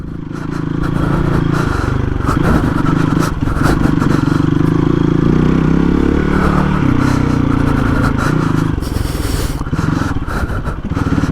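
A Hero XPulse 230 big bore motorcycle rides off-road, its engine droning loudly and continuously up close with clattering and scraping from rough terrain throughout.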